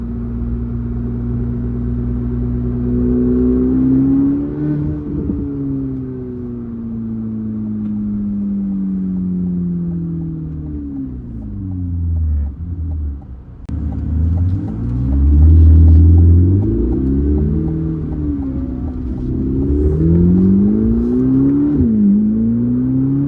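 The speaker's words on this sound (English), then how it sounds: "That spool, it's kind of hard to hear. I'm going to say it's hard to hear on the camera because the exhaust is overdoing it" A turbocharged car cruising and accelerating, its exhaust giving a steady, loud low rumble that rises and falls with the revs, largely masking a faint turbo spool.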